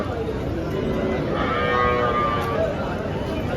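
A cow lets out a drawn-out moo over the busy outdoor background murmur of a cattle market in Dhule, with faint voices nearby.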